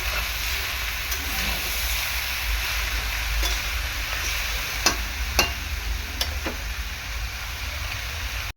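Malabar spinach stir-fried with salt in a pan gives a steady, close sizzle and hiss, with a few sharp clicks and scrapes from stirring and no talk.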